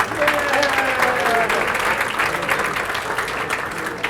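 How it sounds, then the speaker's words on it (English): Applause for the committee at a Ben Ish Hai Hillula evening: a full room claps steadily and briskly, loud at first and easing slightly, with some voices murmuring underneath. "Let's have a round of applause for them."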